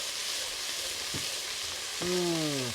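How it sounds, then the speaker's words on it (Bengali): Green chillies, onion and garlic sauté in a pan over a stove on a Sundarbans fishing trip, giving a steady close frying hiss, with a brief whistling tone rising near the end. "কাঁচা মরিচ পেঁয়াজ রসুন কষানো শুরু হয়ে গেছে"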